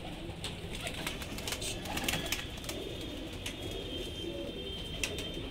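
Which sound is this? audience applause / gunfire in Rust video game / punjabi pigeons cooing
punjabi pigeons cooing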